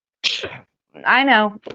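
One close, loud human sneeze, followed moments later by a brief spoken remark and a short burst of noise.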